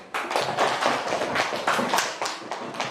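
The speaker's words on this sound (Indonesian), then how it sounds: "Ya, tepuk tangan." Classroom students clapping their hands together, a near, brisk burst of sharp claps in irregular clusters that continues for a few seconds before trailing off.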